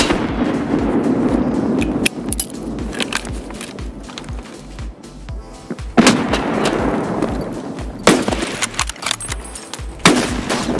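Grenades going off in the shooter game Escape From Tarkov, heard as several loud booming blasts with bursts of gunfire mixed in. Sharp heavy explosions land near 2, 6, 8 and 10 seconds over a constant rumble of combat.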